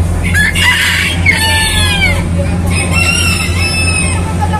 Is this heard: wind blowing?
no